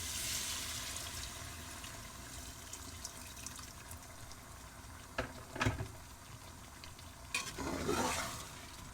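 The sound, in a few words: chicken and pumpkin curry being stirred and cooked in a pot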